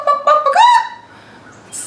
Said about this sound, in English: Scared chickens.